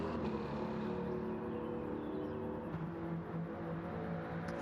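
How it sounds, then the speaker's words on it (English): A De Tomaso Mangusta racing car engine in Gran Turismo 7 during a race at Monza gives a steady, fairly quiet drone with a low sustained hum and no voices over it. "It's a lovely sounding car as well, the Mangusta."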